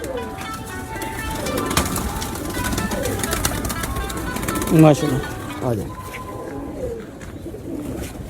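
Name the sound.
pure breeder pigeons cooing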